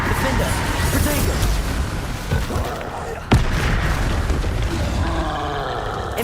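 Confringo blasting spell in the video game Hogwarts Legacy, booming blasts and a sharp crack amid busy combat noise, with a voice talking over parts of it.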